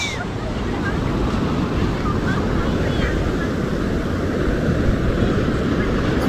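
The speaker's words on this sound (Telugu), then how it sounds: "సో దేర్ ఇట్ ఈస్ బాగా బీచ్." Ocean surf at Baga beach in Goa, a steady loud wash of breaking waves with wind buffeting the microphone throughout.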